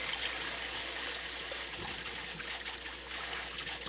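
Shepherd's purse greens rinsed under a running tap, a steady close hiss of flowing water with faint splashing from the leaves, no voices.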